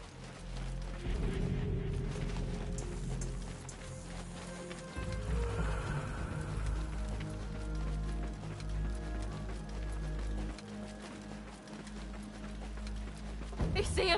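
Horse hooves clop steadily in Assassin's Creed Mirage, a continuous mid-distance trotting rhythm mixed with game ambience and speech.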